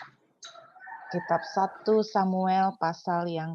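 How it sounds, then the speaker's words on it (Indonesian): A rooster crows nearby during a morning church service, its long harmonic calls rising and falling over a voice reading scripture. "dengar suara ayam berkokok"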